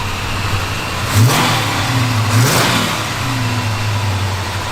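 A 1953 Chevrolet 3100 pickup truck engine idles steadily, then revs up twice in quick bursts before settling back to a low, rumbling idle, close and loud.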